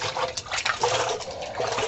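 Water is poured into a bucket for mixing floor leveling compound, a steady close splashing gush that lasts the whole moment.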